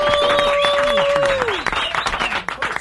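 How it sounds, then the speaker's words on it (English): Audience applause during a radio morning show interview, clapping mixed with a crowd and a tonal sweep sound, loud at first then thinning out. "big round of applause for the one and only Miss Pat"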